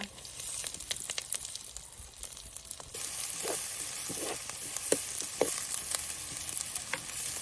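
Curry leaves and onion sizzle in hot oil while being stirred, the base of a kontai fish curry, with steady frying hiss louder after a fresh addition and scattered scraping stirs; no talking.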